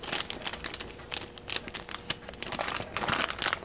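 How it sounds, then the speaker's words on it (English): A sealed plastic bag holding a caliper is handled and crinkled up close, giving sharp irregular crackles and rustles that come in quick bursts and grow busier toward the end, with no speech. "The caliper should come in a sealed plastic bag."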